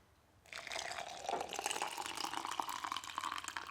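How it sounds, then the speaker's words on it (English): Coffee pours into a cup, starting abruptly after a brief quiet and continuing as a steady close splashing, trickling stream. "So I'm just going to pour in my coffee."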